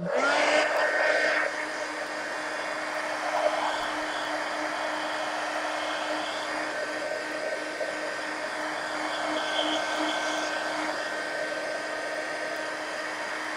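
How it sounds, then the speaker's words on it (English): A hair dryer or heat gun blows steadily to dry paint on a mixed media collage pumpkin, a constant whirring hum held close and loud for the whole stretch, with a slight surge at the start and no talk. "let me go ahead and dry this and put that on the clean side. Let me hit this and try to dry it some."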